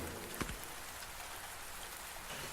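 Torrential rain pours down over a cemetery with stone crypts, a dense, steady hiss of falling water with one brief louder drop or splash, continuous and without voices.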